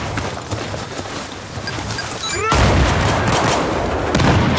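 Gunfire in the video game Battlefield 4 crackles in rapid bursts, then a louder barrage of shots and booms takes over, dense and close.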